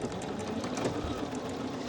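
Sewing machine stitching around a bomber jacket pocket bag at a quarter-inch seam allowance with a 2.5 stitch length, a steady continuous mechanical whirr running close up throughout.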